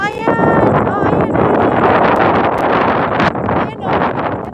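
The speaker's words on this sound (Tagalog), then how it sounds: "Kahit mahangin, no?" Strong outdoor wind buffets the microphone in loud, continuous rumbling gusts, while a person speaks throughout over the blustery roar.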